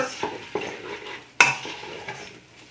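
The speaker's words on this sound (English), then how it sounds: "I'm going to add in my onions, garlic, and my jalapeno. Give this a really good stir" A spoon scrapes and stirs ground beef with onions, garlic and jalapeno in a sizzling pan for pumpkin black bean chili; steady frying hiss with a few sharp knocks against the pan, close up.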